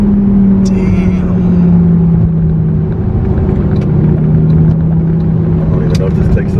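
A Lamborghini Gallardo engine pulling hard through the gears from inside the car, a loud, steady low drone that rises and shifts in pitch, with occasional voices over it.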